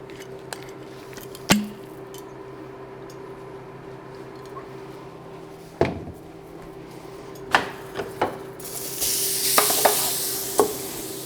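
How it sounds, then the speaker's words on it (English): Garlic sautés in avocado oil in a pan, a steady low sizzle broken by sharp clacks and scrapes of a utensil stirring, with a louder burst of frying hiss near the end. "We're going to start with sautéing the garlic."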